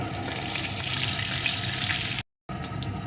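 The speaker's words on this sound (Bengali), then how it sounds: "এখন এই তেলের ভিতরে দিয়ে দেবো একটা শুকনো লঙ্কা একটু পাঁচ ফোড়ন এটাকে লাল লাল করে ভেজে নেব" A dried red chilli and five-spice seeds fry in hot oil with a dense, steady, fairly loud sizzle that cuts out abruptly for a moment, then resumes.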